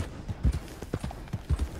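Horse hooves in the video game Red Dead Redemption 2 strike in a soft, uneven clip-clop, several quiet thuds in quick pairs at close range, with no talking.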